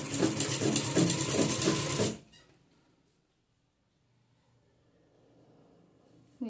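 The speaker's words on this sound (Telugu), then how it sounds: "ఇలా ఫోల్డింగ్ చేసుకొని రౌండ్గా స్టిచ్ వేసేసుకోవాలి." An electric sewing machine stitches around the neckline of a dress, a fast rhythmic mechanical chatter for about two seconds that stops abruptly, leaving near silence with faint handling.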